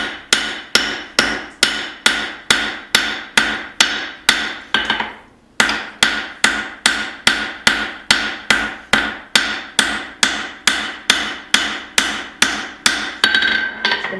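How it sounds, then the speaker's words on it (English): Hammer striking hot steel while forging a tomahawk, a loud, steady run of evenly spaced ringing blows close by, one brief pause partway through, then the rhythmic strikes resume without any talk. "I'm pretty near the end of this forging."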